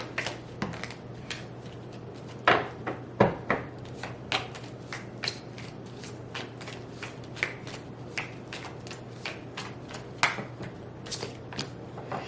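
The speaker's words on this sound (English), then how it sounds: "if I can shuffle my cards" Cards are shuffled repeatedly up close, a run of crisp riffling snaps and soft rubs spread across the whole stretch with no talking.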